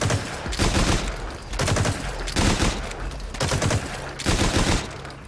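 Sidearm pistol gunfire in the game Metal Gear Online 3, with loud bursts of rapid shots in four or five clusters, close and dense, with no talking.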